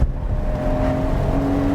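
A Porsche in a maximum-performance drive mode accelerates hard with a loud, close engine roar and a rising tone. It is a brief, continuous burst with no talking.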